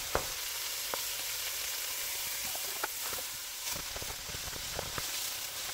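Ground beef and garlic sizzle steadily in a pot while being broken apart, a constant close frying hiss punctuated by occasional scrapes and clicks of a utensil, with no voices.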